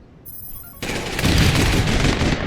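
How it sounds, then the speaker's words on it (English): A grenade explosion in the online shooter APB: Reloaded, a sudden loud boom that swells into a dense rumbling roar sustained to the end, with no talk over it. "We're gonna cook a grenade here."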